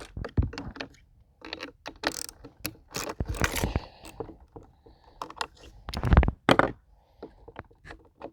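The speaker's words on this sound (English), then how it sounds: "I'll use my 8mm snap-on socket there." A ratchet socket wrench with an 8mm Snap-on socket works bolts on a Husqvarna leaf blower that won't stay running: close, crisp clicking in short irregular bursts with quiet gaps between.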